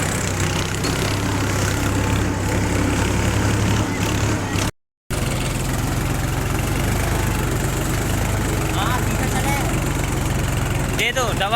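A Powertrac 434 tractor engine running with a harrow, loud and continuous with a steady low drone and revving, while people talk over it.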